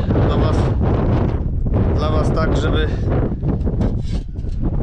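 Strong wind buffets the microphone outdoors during metal detecting, a loud continuous rumbling roar with gusts, while someone speaks over it.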